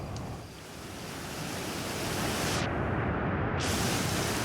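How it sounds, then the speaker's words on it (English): Rushing waterfall in the video game Outer Wilds, a steady broadband roar of falling water that swells slightly, with its bright hiss briefly muffled near the end before returning. "that was a nice little bit of occlusion with the sound effect going through the waterfall"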